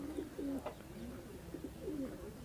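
Pigeons coo in soft, throaty warbling phrases, a couple of calls repeating close by over low background noise.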